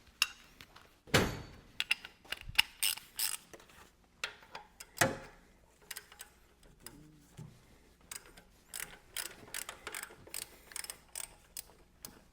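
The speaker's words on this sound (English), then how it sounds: "I'm just going to use my regular ratchet to get everything out in the process" A hand ratchet clicks in short irregular bursts while removing engine mount bolts on a 2006–2011 Honda Civic sedan, close up and fairly quiet, with occasional sharper metallic knocks and no talking.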